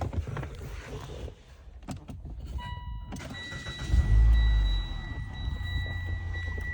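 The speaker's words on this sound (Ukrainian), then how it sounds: "можу вам завести як двигун працює" A 2018 Mitsubishi Outlander Sport 2.4's electronics chime, then the engine cranks and catches with a loud low roar, settling into a steady idle close by.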